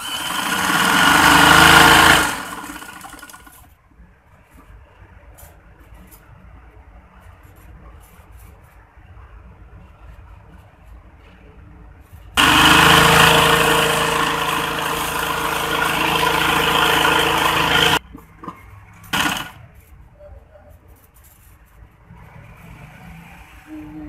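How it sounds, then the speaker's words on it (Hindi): Electric sewing machine stitching the side seams of a lehenga, close and loud, in two long whirring runs separated by a quiet pause, then a brief short burst. "अब हम लहंगे की साइडों की सिलाइयां लगाने लगी हैं"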